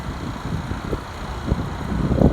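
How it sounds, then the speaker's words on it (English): Gusty outdoor wind buffets the microphone in a steady, rumbling low roar with slight surges, heard while refrigerant is charged into a 1962 Chrysler, with no one talking. "Gotta wait for this little gusty wind to stop, otherwise this is gonna keep on moving."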